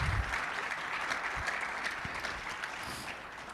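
Faint, distant audience clapping at a community partner coffee hour on parenting, a soft steady patter of many hands with a few louder thumps near the start.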